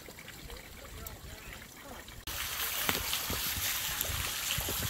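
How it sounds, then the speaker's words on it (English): Water runs and trickles steadily inside a dark structure near a dam, with someone speaking over it as the flow grows suddenly louder partway through. "got water running in it"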